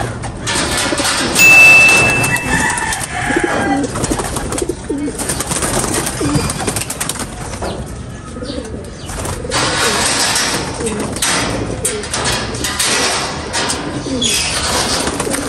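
Pigeons coo in low, soft, repeated calls in a pigeon loft, mixed with flapping and shuffling nearby; a loud, busy coop sound throughout with no one talking.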